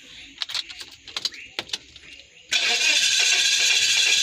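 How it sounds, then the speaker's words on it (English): A Mazda 3 with a suspected head gasket leak cranks hard and catches, its engine noise rising to a steady loud run after a few seconds of clicks and handling noises, with brief talk at the start. "So let's try to start this vehicle and see what symptoms that we get."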